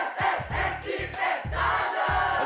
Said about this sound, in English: But let's get a round of applause for Nalanda College.